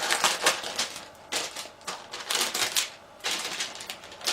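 Subscription beauty box being opened, with bursts of rustling and crinkling packaging in irregular clusters, close and fairly loud, with no voices.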